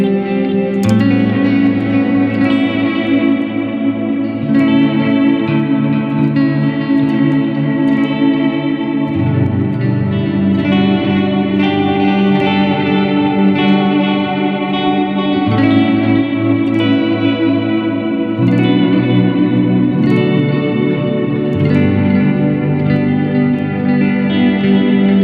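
Guitar played through an EarthQuaker Devices Avalanche Run reverb pedal in forward mode, loud sustained chords and notes washing into lush chorus-like reverb trails and echoes, continuous with no talking.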